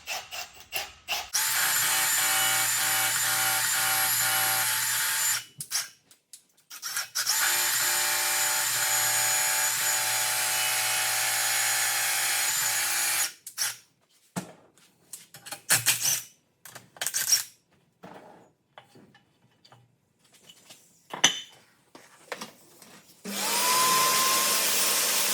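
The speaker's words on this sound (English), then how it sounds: "getting your drill, working it up and down" A power drill boring new head stud holes runs in long steady bursts, stopping and restarting several times as it is worked up and down, close and loud with scattered knocks and clatter between runs.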